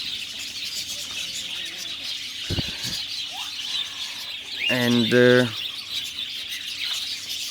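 Pet birds in a cage chirp with short sharp calls, including a brief harmonic squeal burst near the middle, over a steady background hiss, while someone speaks briefly.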